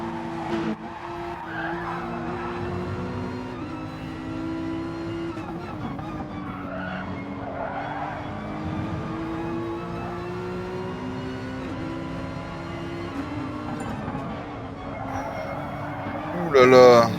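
Onboard view of a Porsche with a flat-six engine lapping Brands Hatch in a sim racing game, the engine droning steadily through gear changes with some tire squeal, under ongoing commentary talk.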